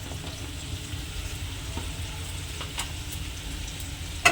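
Ground spices that were pounded and dry-roasted sizzle softly in a pan for vegetarian bread cutlets, a quiet, steady frying hiss with light crackles.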